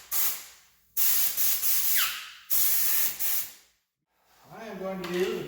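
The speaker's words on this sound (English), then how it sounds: "I'll try my air hose." Short, loud bursts of compressed air hiss from an air hose in a workshop setting, three blasts with gaps between them, then a person speaks briefly.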